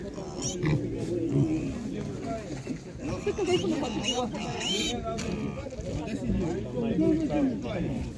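Piglets grunt and squeal at a busy animal market, the animal sounds mixed in with steady nearby talk and crowd chatter throughout.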